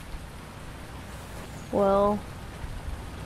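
Steady rain patters outside a truck as a soft, even hiss throughout. Someone briefly speaks a single word over it.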